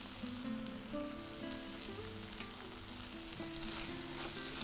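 Ivy gourd stir-fried in a pan with mint and coriander sizzles steadily and close, a dense, even frying hiss throughout with no talking.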